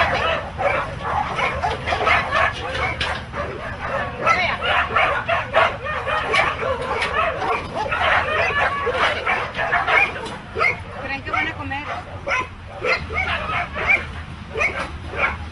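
Several American Pit Bull Terriers bark, yip and whimper continuously at close range, a dense overlapping chorus with a person talking underneath.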